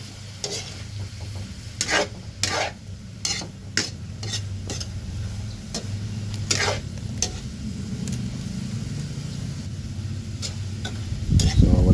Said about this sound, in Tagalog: so halo lang ng halo